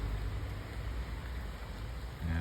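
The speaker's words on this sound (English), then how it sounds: "It's a rain." Light rain falls in Prescott, Arizona, a steady, even hiss of drops with no breaks, close and fairly loud for its whole short length.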